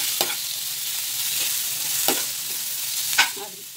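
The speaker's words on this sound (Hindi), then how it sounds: "हमको इसे हिला हिला के अच्छे से करना है, पकाना है, ताकि हमारा मसाला नीचे जल ना जाए" Chili garlic paste sizzles steadily in a pan with very little oil while a utensil stirs it, giving a few distinct scraping clicks over the constant frying hiss.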